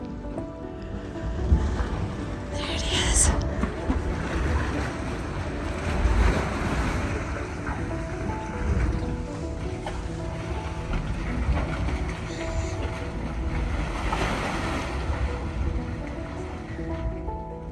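Dragon's Mouth Spring, a hot spring in Yellowstone National Park, churns and sloshes in a deep, surging rumble that swells and recedes like surf. Wind buffets the microphone, and a voice speaks briefly.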